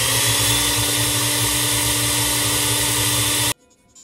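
A blender pureeing carrots and cream runs with a loud, steady motorized whir for about three and a half seconds, then cuts off abruptly into near silence.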